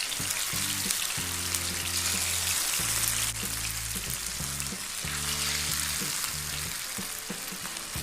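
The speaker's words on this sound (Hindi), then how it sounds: "फ़िश को फ्राई कर लेते हैं।" Marinated fish pieces fry in refined oil, giving a steady, loud, continuous sizzle with no break, alone and without talk.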